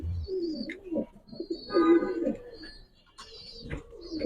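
A large, strong racing pigeon at a bird sale coos softly several times close by, low throaty calls against a quiet background, with a brief higher chirp among them.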